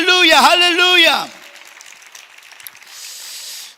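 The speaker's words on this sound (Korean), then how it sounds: "크게 말하는 차원을 넘어 더 크게 말할 수 있도록 역사하여 주셔서 우리를 위대하게 사용하시며 뜨거운 영광의 박수를 합니다" A church congregation at Gwangju Antioch Church claps during a sermon. A voice speaks loudly first, then a steady wash of moderate applause follows for a couple of seconds.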